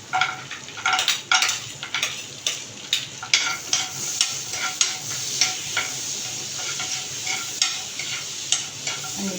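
Cashew nuts frying in hot butter while being stirred, bright sizzling under repeated scraping strokes of a spoon against the pan, close and continuous.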